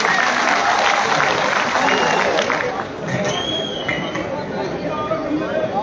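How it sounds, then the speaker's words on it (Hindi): Loud, dense applause from a large crowd at a Bharatiya Janata Party political rally in Udhampur welcoming a speaker, continuous throughout with crowd chatter mixed in. "जोरदार तालियों से शगुन जी का स्वागत किया जाए।"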